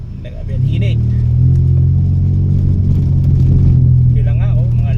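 A car engine rumbling steadily from inside the vehicle, a low continuous drone that swells slightly and holds, with people talking over it.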